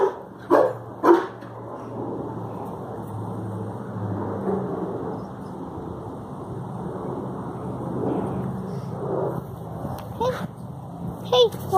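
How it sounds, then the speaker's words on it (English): A half husky, half Rottweiler dog lets out a few loud barks near the start and again toward the end, with quieter vocal sounds and background noise in between. "this is my dog, Churro."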